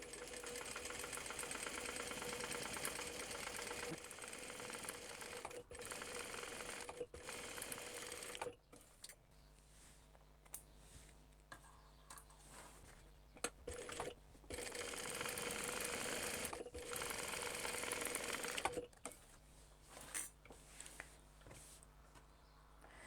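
A sewing machine top-stitches a crossbody bag, running in a long steady burst, then in shorter stop-start runs with brief pauses between, close and fairly loud.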